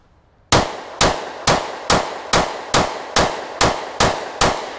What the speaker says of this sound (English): Let's go ahead and draw from the Glock 27.